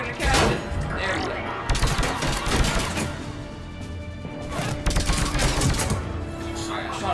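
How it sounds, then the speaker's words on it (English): Gunfire from the video game Mass Effect 3, dense bursts and sharp shots crackling over game effects, with a player talking over the action throughout. "Alright, I shot his arm to death."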